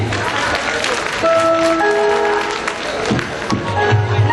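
Devotees clap at a Jain Panchkalyanak ceremony in Bhilwara, a steady wash of applause from a crowd with tones and voices mixed in.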